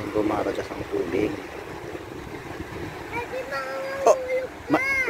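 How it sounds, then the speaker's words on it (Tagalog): Water rushing at a dam in an eco park makes a broad, continuous roar mixed with wind buffeting, while people talk loudly nearby throughout. "ayan pa na yung gumaragas ang tubig"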